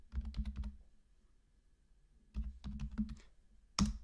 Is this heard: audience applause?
no